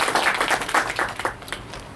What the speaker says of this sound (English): a round of applause for her.